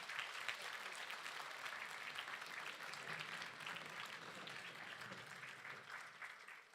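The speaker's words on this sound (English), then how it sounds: "I think you would agree that deserves another round of applause." An audience at a Hong Kong forum applauds speaker Ronnie Chan with sustained, even clapping from a large room, moderately distant, and a faint voice is heard underneath.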